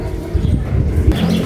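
Racing pigeons arriving home in rainy weather, with a few short low coos and soft fluttering sounds, close by and brief.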